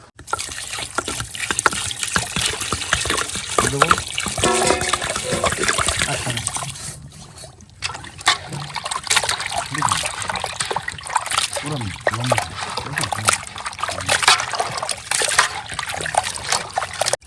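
Water is poured and splashed over pieces of a large 20 kg stingray being washed at home, gushing and trickling continuously while several people talk over it.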